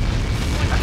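A missile strikes in the Ace Combat 7 jet combat game, producing a brief, loud, deep explosive boom with a rumbling, continuous roar.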